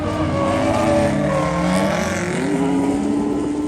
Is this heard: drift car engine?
yes